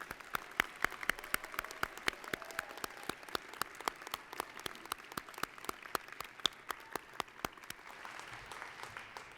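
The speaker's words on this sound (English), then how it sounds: "Once again, let's give these people a round of applause." Sparse, distinct handclaps at an academic honors convocation, a small scattered audience clapping in an irregular rhythm at moderate distance, fairly faint in a quiet hall.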